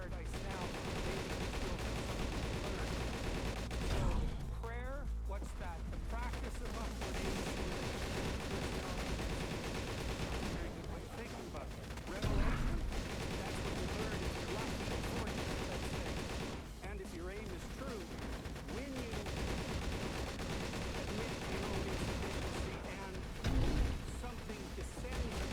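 Bombs thrown and exploding in the video game Darkest Days: a dense, continuous barrage of gunfire and blasts, with several louder bursts standing out at intervals against the constant battle din, and voices talking in the mix.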